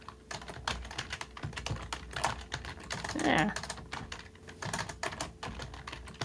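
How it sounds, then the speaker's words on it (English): Furious typing on a computer keyboard, rapid irregular clacks close to the microphone, with a brief spoken word in the middle. "I come back and I hear just you furiously typing. Violent keyboard sound."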